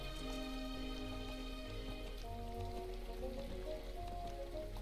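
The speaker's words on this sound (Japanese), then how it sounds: "すごいね、雨。" Steady rain in the video game My Time At Portia, a dense, even patter that holds without a break, with soft chime-like tones sounding over it.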